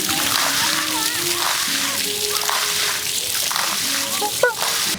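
Water splashes and sloshes continuously over a Xiaomi Watch S4 Sport Smartwatch, close and fairly loud, while a voice talks throughout and a few short electronic chirps sound near the end.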